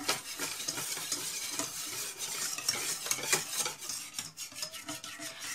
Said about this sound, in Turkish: hiç pütür kalmayana kadar yine aynı şekilde hızlı bir şekilde çırpıyorum